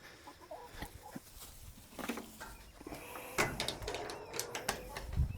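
Backyard chickens cluck and murmur softly nearby, with scattered short calls and rustling that grow busier toward the end, fairly quiet overall.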